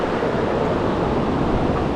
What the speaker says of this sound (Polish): to nie jest morze, lecz to jest ocean. Niby atlantycki